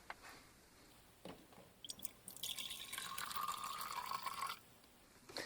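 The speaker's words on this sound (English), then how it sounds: "we're going to fill up our jar about a quarter of the way full" Acid being poured from a jug into a glass jar for knife blade etching, a quiet liquid splashing and trickling stream that builds over a couple of seconds, close up and alone.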